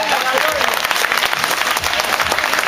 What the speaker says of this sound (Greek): Και χειροκροτήστε μόνο αυτόνα.